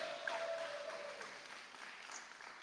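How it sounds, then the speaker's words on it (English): Audience clapping fills the space at a political party family reunion event, a steady moderately faint wash of applause with a brief tone at the start, no speech over it. "That's right, you can clap."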